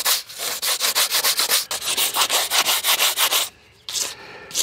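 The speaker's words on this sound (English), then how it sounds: "I got to sand this down." Hand sanding a surface during a double din head unit install in an OBS Ford, a quick rhythmic back-and-forth rasp repeating about a dozen times, close and loud, then a brief pause and a final stroke.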